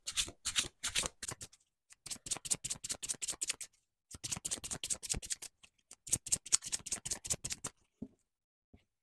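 Gold Foil Tarot cards riffle and flick in bursts of rapid shuffling, close and crisp, with short pauses between passes and a quiet stop at the end.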